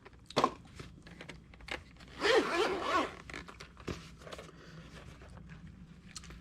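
Plastic packaging of a TRACER Proscribe pencil kit being opened, heard as a dense crinkling, tearing rustle around the middle, with scattered handling clicks and taps before and after, close and fairly quiet.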